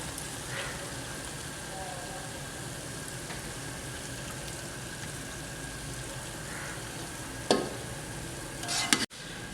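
Okra fries in oil in a pan with a soft, steady sizzle and a couple of sharp clinks near the end.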